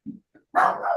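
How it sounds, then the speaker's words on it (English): Dog barking indoors in the background: two faint short yips, then a louder sustained bark lasting about half a second, with no speech over it. "sorry about the dog barks if you're hearing them"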